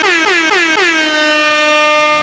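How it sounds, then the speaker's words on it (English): A loud, sustained air horn blast with a pitch that slides up at first, then holds steady and blaring for about two seconds with no other sound. "I know y'all hear that air horn"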